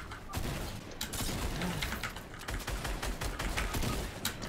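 Rapid bursts of gunfire from the video game Fortnite crack out in dense clusters over a busy game soundscape, with loud repeated shots throughout and players' voices faintly underneath.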